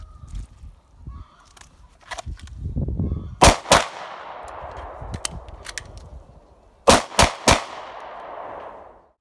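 Handgun live fire during a shooting demonstration: sharp, loud reports in clusters, two quick shots then later a burst of three, each ringing out with a reverberant tail, with faint low voice murmuring before the first shots.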